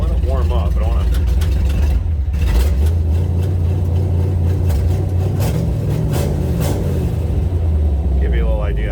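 A loud, steady engine rumble from a 1934 Ford pickup throughout, with the motor revving up and down in surges, close by, with brief voices over it.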